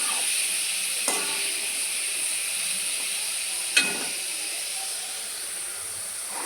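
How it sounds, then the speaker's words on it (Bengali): Soybean chunks frying in oil in a pan after paneer, a steady, even hiss of sizzling with a couple of faint clinks from the pan. "তারপরেই আমি সয়াবিনগুলো ভাজছি"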